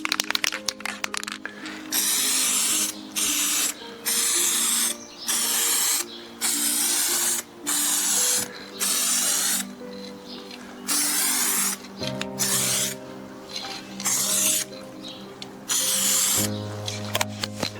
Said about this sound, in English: Still using the overspray method to paint the brackets.